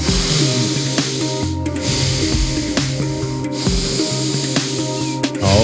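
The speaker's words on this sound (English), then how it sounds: "Nose-only power breathing." Rapid forceful breaths taken through the nose only, a steady run of hissing, sniffing inhalations and exhalations repeating about once a second, loud and close over a continuous background layer.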